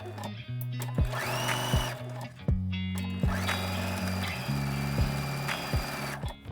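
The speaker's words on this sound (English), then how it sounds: "go ahead and start sewing that 1/4 inch seam" A sewing machine stitches a quarter-inch seam through quilt fabric for a scrappy hourglass quilt block. Its steady motor whir runs close and even, with brief pauses and restarts, and no voices.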